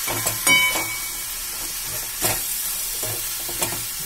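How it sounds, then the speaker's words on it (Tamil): Spices, including coriander, sizzle steadily in a frying pan for kaara poli while a spoon stirs them, with a few louder scrapes over a constant close frying hiss. "அதுக்கப்புறம் எல்லாத்தையும் சேர்ந்து கொஞ்சம் கிளறி விடுங்க"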